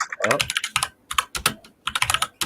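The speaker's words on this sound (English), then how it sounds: "Matt is typing over there" Rapid clicking on a computer keyboard in a room, a close burst of keystrokes in uneven clusters with brief gaps, and a faint voice in the background.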